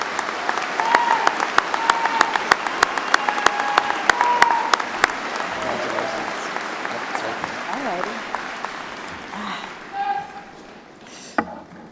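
Sustained audience applause at a May 2016 commencement ceremony welcomes a student speaker to the podium, dense clapping that gradually thins out and fades, with a few scattered claps and a voice at the end.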